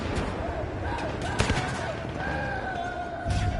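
Battlefield 1 gameplay: a dense bed of distant battlefield gunfire rattles on throughout, with a sharper crack near the middle and a heavier burst at the end, partly blended with background game sound.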